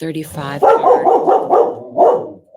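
A dog barks several times in quick succession close by, loud sharp yelps following a brief spoken word.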